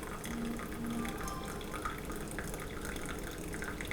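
Water pours steadily into a single-cup coffee brewer, a soft, continuous trickle under faint background noise.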